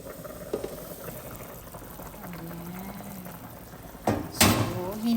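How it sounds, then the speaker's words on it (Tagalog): Chicken tinola soup with lemongrass bubbling steadily in a pot, a continuous low simmer with a few louder clatters and splashes near the end. "So, hinaan na natin yung apoy. Ayan. Kasi nag-boil na."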